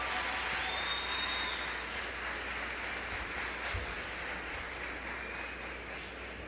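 Church audience clapping to welcome a pastor, the founder of a ministry, onto the stage at an evening service; steady, dense applause sustained throughout at moderate distance, without voices.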